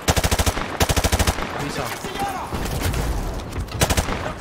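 M4 rifle fire in Call of Duty Modern Warfare, loud close bursts of rapid shots opening and closing the stretch with more scattered firing and game noise between, and someone briefly speaking.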